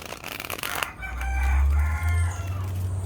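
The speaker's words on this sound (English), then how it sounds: "Don't mind the roosters." A rooster crows loudly nearby, one long drawn-out call, with another fainter crow and some rustling in the background.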